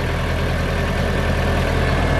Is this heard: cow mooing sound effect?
no